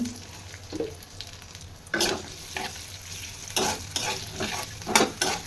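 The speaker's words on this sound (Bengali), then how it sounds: "ভালো করে নাড়িয়ে নিচ্ছি। তেলের মধ্যে পেঁয়াজটা একটু রং হয়ে এসছে" Onions fry in hot oil with a steady sizzle, and a utensil scrapes and clatters against the pan as it stirs them. It sounds close, with no talk.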